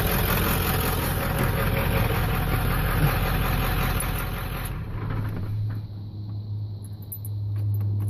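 A 1995 Powerstroke diesel truck engine idles steadily with a low, even clatter and hum, loud and close, shifting to a lower, smoother drone partway through.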